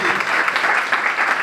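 Audience at an oratory competition breaking into dense, steady applause, loud and close, with continuous clapping throughout.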